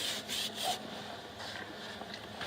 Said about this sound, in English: Just get it wet with the brush. Semi-scrub it in.